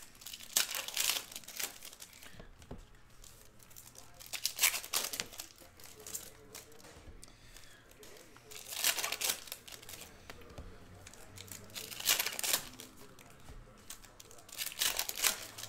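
Foil wrappers of Panini Prizm basketball retail packs crinkle and tear in bursts of rustling, recurring every few seconds, with quiet gaps between.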